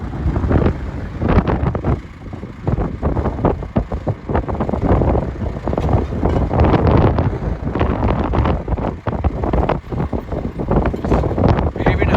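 Strong, cold wind on a farm buffets the microphone in loud, uneven gusts, a constant rumbling roar with no clear voices.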